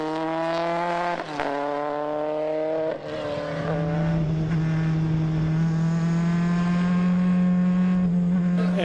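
A 1990 single-seater race car screams up a historic hill-climb course, its engine note rising through sharp gear changes around one and three seconds, then holding a loud, steady high-revving drone close by.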